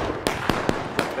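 Rifle volley fired on command in a skirmish video game, heard as four sharp, spaced cracks in quick succession over a brief bed of background noise.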